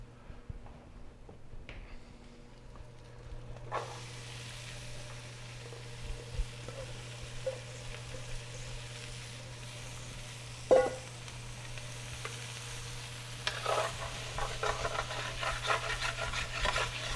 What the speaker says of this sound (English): We're going to get our vegetables in there now, and that's going to save our pan from burning.